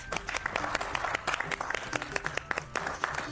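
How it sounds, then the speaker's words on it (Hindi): Sustained applause from guests celebrating a couple's wedding, many hands clapping steadily at moderate distance with a murmur of crowd underneath. "तो उसके लिए ढेरों तालियां प्लीज"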